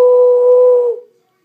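A single hand-cupped whistle imitating a bird call sounds as one steady, clear, hooting tone lasting under a second before quickly fading out.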